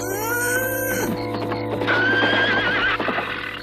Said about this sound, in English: That horse whinny sounds like it's coming from where Oscar's being kept